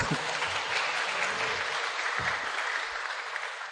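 An audience at a church talk on music gives sustained, even applause that fills the space, moderately distant and fading slightly at the close.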